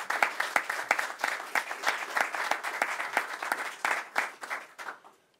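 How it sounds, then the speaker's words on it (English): An indoor crowd at a bill-signing event claps for Lieutenant Governor Kathy Hochul. The applause is dense and steady, with sharp individual claps standing out, then fades to silence at the end. "Let's give her a round of applause for all her great work."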